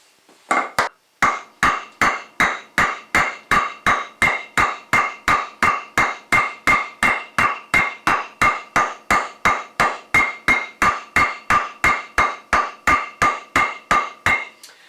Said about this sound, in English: I'm going to hammer into the end, using my hammer, to make a little dish